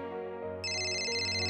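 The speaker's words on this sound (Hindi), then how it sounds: "मैं एक बार बाला को फोन करके ट्राई करता हूं।" A phone ringtone plays steadily through an outgoing call in an Indian TV drama scene, a sustained electronic tone, with a brighter high chime layer joining partway through and no talking.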